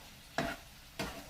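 Potatoes being stirred into a spice mixture in a pan, heard as two soft scraping, sizzling strokes about half a second apart, fairly quiet with no talk.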